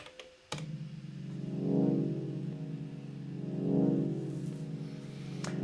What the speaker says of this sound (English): That is like a chord sound I also found in one of my libraries.